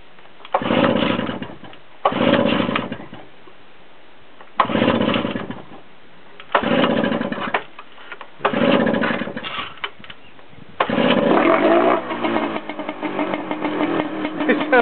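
A small engine driving a boat's water pump putters in repeated bursts, revving and dropping back like a scooter, with a rougher sustained run at the end; close and fairly loud.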